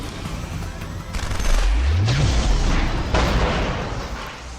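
A Deus Ex: Human Revolution in-game explosion, a loud, dense rumbling burst of blasts and gunfire-like cracks with a low booming swell, continuing through the clip with no voices.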